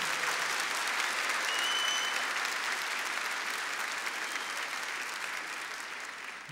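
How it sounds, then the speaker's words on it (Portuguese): An audience applauds the Vincentian family at a Catholic gathering, a dense, steady wash of clapping that holds evenly throughout and eases slightly toward the end. "Uma salva de palmas para a nossa família vicentina."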